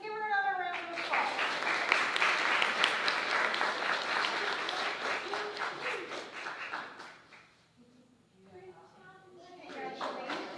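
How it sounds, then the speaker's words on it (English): Audience applause for a certificate recipient at a school board meeting honoring elementary students, sustained clapping filling the room, briefly dipping near the end before swelling again with voices and children's chatter. "Let's give her another round of applause"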